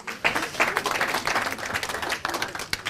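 A studio audience at a Dutch talk show gives steady, dense clapping for a guest being welcomed to the table, sustained at even loudness with no talking over it.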